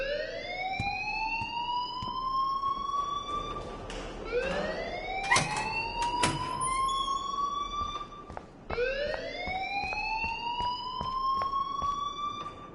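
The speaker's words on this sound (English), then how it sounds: "please turn off that alarm since that's your job" A wailing electronic alarm in the Life is Strange video game rises repeatedly in long upward sweeps, three loud cycles with scattered clicks and thumps between them.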